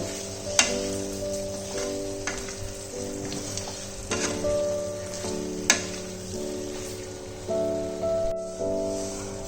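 Raw jackfruit frying in spiced oil for a Bengali prawn curry, a steady close sizzle with scraping stir strokes and a few sharp utensil clinks against the pan.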